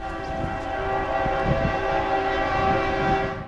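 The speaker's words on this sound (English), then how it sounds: "I whipped my camera around just in time to see Norfolk Southern 260 round the curve" Norfolk Southern freight train led by a Dash 9 locomotive rounding a curve, its horn sounding a sustained chord over the rumble and clatter of the passing train, fairly close and loud.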